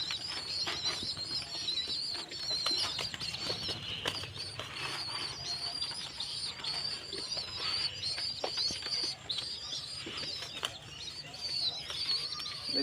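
Trained pet pigeons kept outdoors by a road, with soft wing flutters and faint chirps and coos over a steady ambient hum, fairly quiet and continuous throughout.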